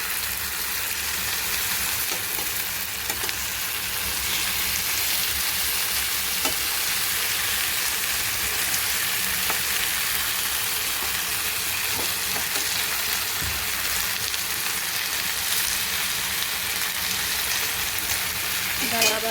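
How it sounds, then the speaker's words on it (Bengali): Fish frying in a covered pan for turmeric-leaf paturi, a steady close crackling sizzle that runs without a break and with no voices. "এবার মাছগুলোকে উল্টে দেবো, পিঠটাও ভালো করে যেন ভাজা হয়।"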